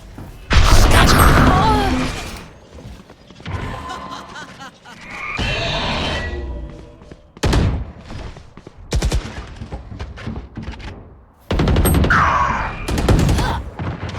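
Grenade explosions and bursts of gunfire from a Valorant esports match, booming blasts and rattling shots recurring in loud clusters across the clip, with a caster talking in between.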